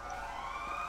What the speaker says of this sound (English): That siren's scaring me.